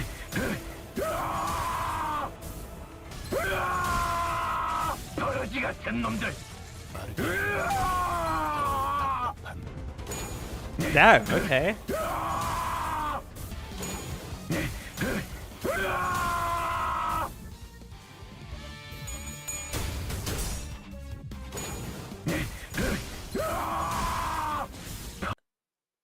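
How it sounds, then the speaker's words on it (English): Gregor, a video game character, lets out a long series of strained yells and screams in repeated bursts with short gaps, and a listener briefly reacts aloud between them. "5 is Gregor screaming for almost 1 minute."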